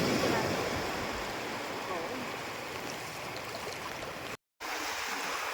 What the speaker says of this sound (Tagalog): Ito po yung karit ng agos na galing sa ilog.